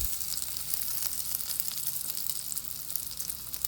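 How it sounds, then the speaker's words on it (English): Pork loin cutlets sizzle in hot oil in a pan over medium-high heat, a steady bright crackling hiss with no talking. "Then place pork loin and cook for 3 minutes."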